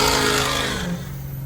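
Ford 6.0-liter diesel truck with a 5R transmission revving, a loud engine roar that drops off in pitch and volume as the transmission shifts, brief and close.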